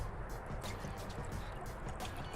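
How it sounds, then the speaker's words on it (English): Water from a can pouring steadily into a cooking pot with chicken broth, a continuous close splashing trickle lasting a couple of seconds with no talking. "1 can of water, 1 can of chicken broth."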